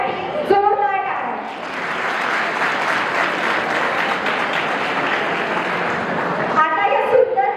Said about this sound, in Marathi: एकदा सर्व कलाकारांसाठी जोरदार टाळ्या.